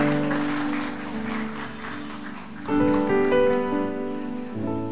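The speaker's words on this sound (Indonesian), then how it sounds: "Sekali lagi tepuk tangan untuk seluruh narasumber kita." Applause from a crowd at a football talk-show panel fills the scene, with harmonic music or tones layered over it and swelling louder toward the end.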